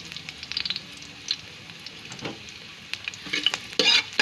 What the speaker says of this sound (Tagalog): Susunod po natin ang bawang, sibuyas, luya para sa ating pag-igisa.